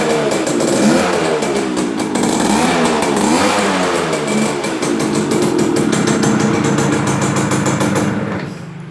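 A 1981 Yamaha V80 Autolube motorcycle engine runs loud and close, with a sharp, buzzing two-stroke note that rises and falls in pitch before it cuts off near the end.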